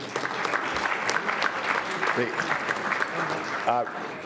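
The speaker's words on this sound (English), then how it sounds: "Please give him a round of applause." Audience applause at a luncheon, sustained crowd clapping filling the room, with a voice briefly speaking near the end.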